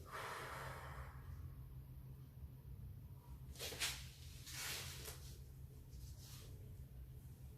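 A person exhales during a Pilates breathing exercise, a couple of soft, airy breath bursts in the middle of the span over a steady low background hum.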